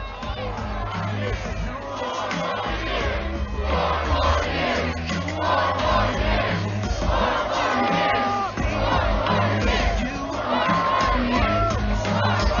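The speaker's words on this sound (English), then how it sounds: "Let's get a 4 more years chant." A large outdoor crowd at a presidential rally in Kenosha, Wisconsin, chants in a loud, rhythmic unison, the massed voices swelling and repeating steadily with scattered whoops over the din.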